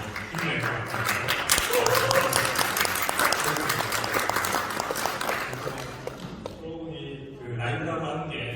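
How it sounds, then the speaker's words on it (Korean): Applause from a conference audience at the Park Hyatt Hotel in Dubai during Expo 2020, a loud sustained burst of many clapping hands that fades out after about six seconds, followed by a brief stretch of voices. "여기 계신 분들 박수 한번 쳐주시면 관계자분들 굉장히 힘을 낼 것 같아요"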